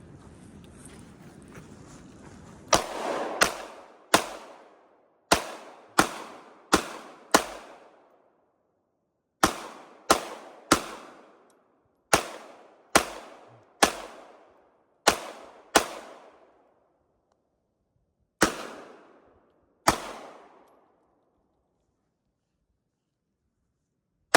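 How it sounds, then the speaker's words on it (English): Pistol shots from a Norinco Type 54 or a Rock Island 1911 crack sharply and loudly outdoors, about seventeen single shots in irregular groups, each trailing off into a short echo, with a faint wind rush before the first. "I got one target left for the day, and we're going to go shoot that."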